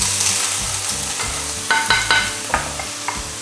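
Frozen onions and mushrooms sizzle loudly and steadily in a pan, close by, with clatters of stirring and scraping in the second half.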